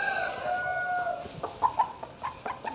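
A Trah Durian hen clucks in a series of short, close, uneven calls after a drawn-out tonal squawk, each cluck clear and moderately loud against a quiet background.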